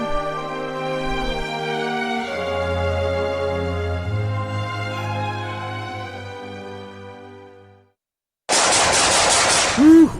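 Music plays for most of the stretch, then stops, and a loud, close burst of rapid, continuous gunfire fills the final two seconds.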